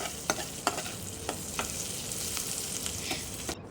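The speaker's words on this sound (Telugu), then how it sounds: "ముందుగా ఫ్రై చేసి పెట్టుకున్న ఆయిల్లోనే గార్లిక్ ఇంకా చిల్లీస్ వేసుకోవాలి." Garlic and chillies fry in hot oil left over from frying chicken, a steady broadband sizzle with a few sharp spatters and scraping stirs scattered through, close and moderately loud, no voices.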